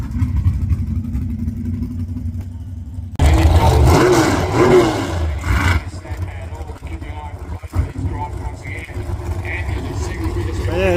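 A drag racing car blasts down the strip with a loud, rising engine roar that cuts in abruptly and rolls on before easing off, heard over a low idling rumble with a commentator talking throughout.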